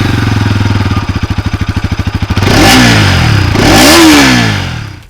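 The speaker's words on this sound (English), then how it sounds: "The exhaust note is also different." A 2023 Bajaj Pulsar NS200 motorcycle engine idles with a rapid, loud pulsing exhaust beat, then revs up twice in rising and falling roars.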